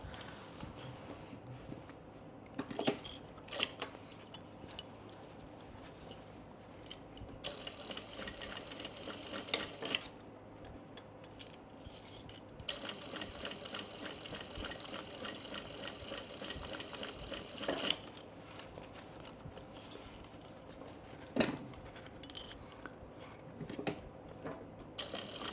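A sewing machine stitching a tote bag, its motor whirring in several rapid bursts of stitching separated by pauses, close and fairly quiet, with clicks and handling noises between runs.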